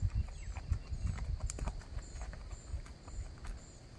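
A three-year-old gray Tennessee Walking horse's hooves clop and scrape over uneven ground of big rocks in an irregular pattern, with loose stones knocking and shifting underfoot amid outdoor background noise.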